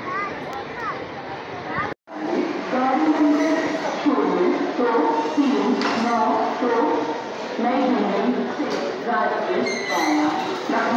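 The Shramjeevi Superfast Express, an Indian Railways train on the New Delhi to Rajgir route, rolls into platform 1 at Bareilly Junction with a steady, close rumble and clatter while a person talks over it.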